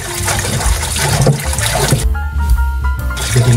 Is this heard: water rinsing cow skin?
yes